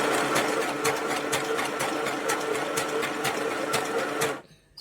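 Sewing machine stitching a bag crocheted from T-shirt yarn, running in steady fast rapid clatter for over four seconds at close range, then stopping abruptly near the end.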